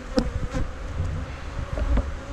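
Honeybees buzz in a dense, continuous hum at an apiary during a honey harvest, close and steady for a couple of seconds.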